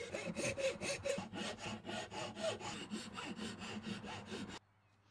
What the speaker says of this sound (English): to remove the last material for the mouthpiece, I use a rasp